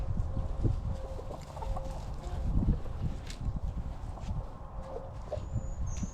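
Chickens cluck around a backyard homestead chicken coop, a steady low murmur of hen calls with occasional brief higher calls, close by and continuous with no talking.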